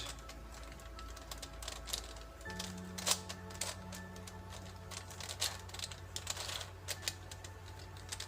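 A WitEden Octahedral Mixup Plus II twisty puzzle turned quickly to shuffle it, giving a dense run of small plastic clicks and clacks, close and steady, over a low background hum.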